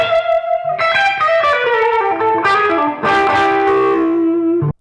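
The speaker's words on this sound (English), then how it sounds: "This is a fuzz pedal. It makes the guitar sound like shit," An electric guitar through a fuzz pedal plays loud, buzzy sustained notes and sliding chords, fuzzy harmonics stacked densely, ending in a short cutoff.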